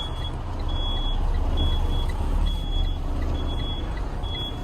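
A Toyota car drives out, its engine and tyres giving a steady near rumble, while a regular high electronic beep repeats about five times over the motor.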